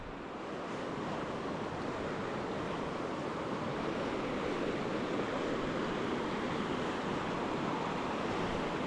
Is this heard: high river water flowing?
yes